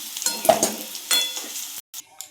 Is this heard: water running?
no